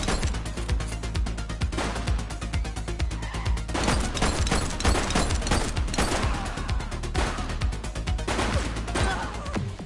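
Video game The Precinct: a heavy police shootout with sustained rapid bursts of gunfire and crashing impacts, loud and dense throughout with only brief lulls.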